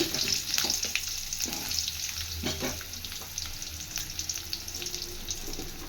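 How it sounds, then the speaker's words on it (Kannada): Chopped onions drop into hot oil already crackling with mustard seeds, giving a steady, close sizzle with intermittent scraping stirs throughout, no talking. "ಕಟ್ ಮಾಡಿದ ಈರುಳ್ಳಿ ಹಾಕ್ತಾ ಇದ್ದೀನಿ."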